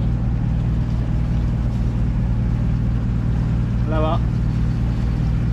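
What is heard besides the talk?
sailboat under motor leaving the bay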